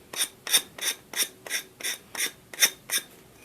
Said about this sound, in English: just keep filing it off like that